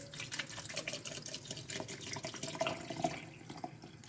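Water runs steadily from a tap into a pot for making a Tunisian zgougou pine-seed assida, a continuous splashing fill lasting a few seconds with no voices.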